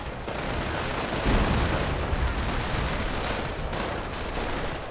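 Heavy gunfire and artillery barrages roll on without pause in a World War II tank battle video game, a dense, loud, continuous wall of blasts with a stronger burst near the middle.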